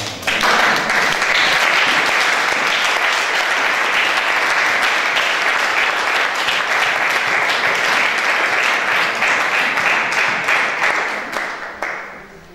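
A church congregation bursting into sustained applause for Jesus, dense clapping that holds strong for several seconds before fading out at the end.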